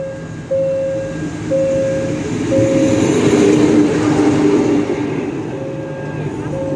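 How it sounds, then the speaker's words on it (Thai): Thai train 725 from Thonburi to Kanchanaburi pulls into a station, its horn sounding in long repeated tones while a steady rumble of wheels and engine swells and then eases, loud and close. "ขบวนนี้ก็จะเข้าสถานีกลางเจนบุรีนะครับ"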